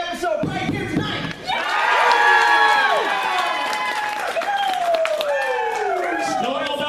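A pony fan convention crowd at Ponyville Oktoberfest, an Oktoberfest event, cheers and shouts loudly. Many overlapping voices rise and fall across the hall, with scattered claps underneath, close and sustained for several seconds.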